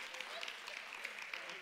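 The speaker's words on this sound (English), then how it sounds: "The women are cheering there." Women in a crowd cheer and clap, a dense, even wash of applause with scattered sharper claps, heard at moderate distance.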